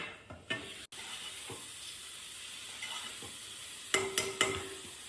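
Cooked rice is tipped into a hot pan of vegetables and stirred for fried rice, with soft sizzling, scraping spatula strokes and a few sharp clinks against the pan.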